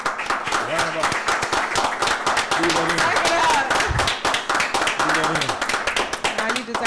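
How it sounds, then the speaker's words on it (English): A round of applause from a podcast audience, scattered claps and cheers mixed under music and a loud voice throughout. "go with me one more time to give a round of oxygen, to Steve Hooks for everything. Round of applause."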